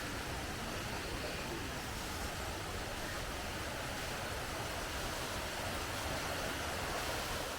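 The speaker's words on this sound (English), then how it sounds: "Got a nice little waterfall on the other side too," A small waterfall in a rainforest creek near Cairns pours as a steady, close, broadband rush of falling water, constant and loud throughout with no break.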